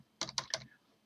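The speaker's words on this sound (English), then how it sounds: "Oh, my keyboard." Three quick bursts of typing on a computer keyboard during an online math lesson, close and fairly loud, with no talking.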